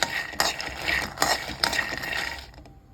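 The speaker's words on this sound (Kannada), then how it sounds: "ಈಗ ಕಡಲೆಕಾಯಿ ಬೀಜನ ಚೆನ್ನಾಗಿ ರೋಸ್ಟ್ ಮಾಡ್ಕೊಳ್ಳೋಣ" Peanuts dry roast in a pan without oil beside dried red chillies, making a series of dry rattling, scraping stir strokes up close for a few seconds before fading out, with no voices.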